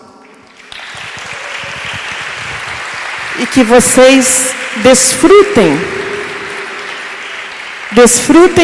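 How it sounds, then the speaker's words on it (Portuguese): At a women's church gathering, applause rises to welcome a guest speaker, moderately loud and continuous beneath an amplified voice that speaks and sings over it with a microphone. "Eu quero que vocês recebam a Mirna com um aplauso"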